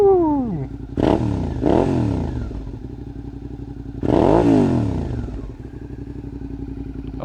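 Sharp throttle blips from a Suzuki SV 650 motorcycle: two quick revs, then a longer rev that falls back to a loud, close idle, with no talking.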